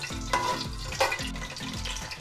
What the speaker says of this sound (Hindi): इसको 2 से 3 मिनट के लिए कड़कड़ाएंगे ज़ीरे को